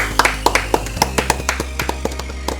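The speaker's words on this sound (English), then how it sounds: "Let's give it a round of applause." Steady, evenly spaced claps ring out one after another, a lone pair of hands clapping in a quick regular rhythm over a low hum.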